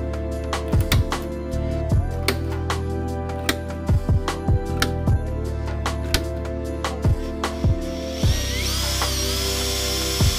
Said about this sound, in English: Now I'm going to tap and drill each of those holes.